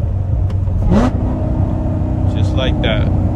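A manual-transmission 870 whp Corvette blips its engine as it downshifts into lower gears with automatic rev matching, giving short close revving surges over a steady engine drone, while a voice talks throughout.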